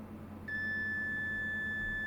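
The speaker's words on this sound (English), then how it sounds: "we should hear a beep right about now" A steady high-pitched multimeter beep starts about half a second in and holds continuously to the end, over a low background hum.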